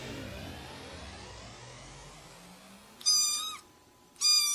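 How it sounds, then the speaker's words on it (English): A tiny kitten gives two sharp, high meows close by, following a fading whoosh of a passing vehicle. "Oh, the sound of a tiny kitten."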